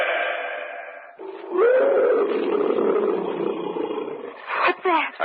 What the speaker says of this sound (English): A cat. Probably a tiger somewhere in the jungle.